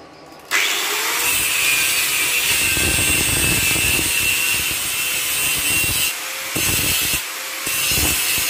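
A power tool cuts into part of a homemade metal motorcycle paddock stand, a loud steady grinding whine that holds for several seconds, briefly drops out twice, then resumes, with no talking.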